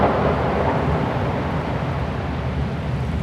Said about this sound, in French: La tempête fait rage.